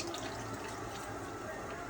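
Milk is poured onto steak in a pan, making a faint, continuous liquid pour and wet hiss beneath someone talking.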